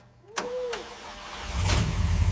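A restored 1970 Plymouth Barracuda engine cranks with a short whirring starter, catches, and settles into a low, rumbling idle that grows fuller toward the end.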